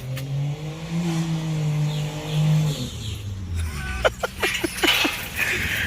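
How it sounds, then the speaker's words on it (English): A loud engine of a Lexus GS300 with a big-turbo 1JZ, exhaust removed and open downpipe, drones and rises, then crackles and pops sharply several times, raw and unmuffled. "As you can hear, the exhaust is off."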